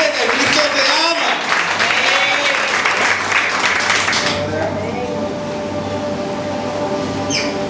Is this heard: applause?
yes